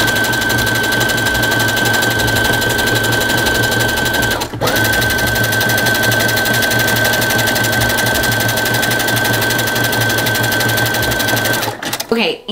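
A sewing machine stitching a hem in knit fabric runs steadily with a dense, rapid mechanical whir, pausing briefly partway through before continuing, then stopping at the end.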